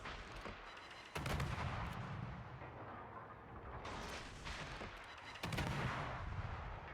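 Ship guns firing in a naval warship battle game: heavy booming salvos erupt near 1 s and 5.5 s, with rumbling fire and explosions rolling continuously between them, loud and close, no voices.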